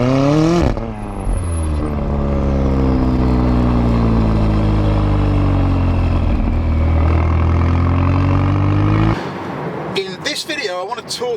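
A McLaren 570S sports car drives with a steady, loud engine drone whose pitch rises and falls through gear changes, holding for about nine seconds before cutting out abruptly.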